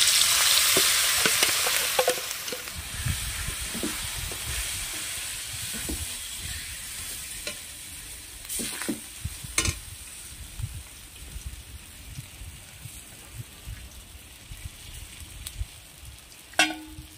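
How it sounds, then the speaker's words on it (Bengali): Semolina mixture stirred in a frying pan after a cumin tempering, a strong sizzle that fades to softer hissing over time, punctuated by scattered scrapes and clinks of the spoon against the pan. "এই সুজির মিশ্রণটি দেওয়ার পর অনবরত নাড়তে থাকতে হবে"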